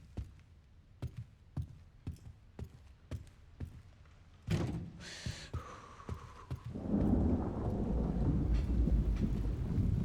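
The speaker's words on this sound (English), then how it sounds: "lightning and thunder." Thunder in Resident Evil Requiem rolls in after a run of sharp, evenly spaced thuds, then steady rain and rumble fill the rest, loud and close.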